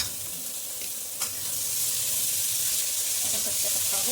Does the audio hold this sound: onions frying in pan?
yes